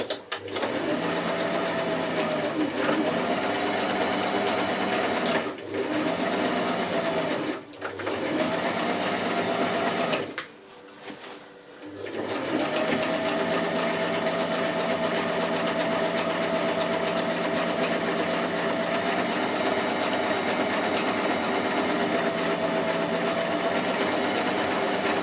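A sewing machine runs steadily, stitching forward and in reverse across a pool blanket cover, its loud whirring hum broken by short pauses and changes in pitch as it switches direction, with one longer stop midway before it resumes.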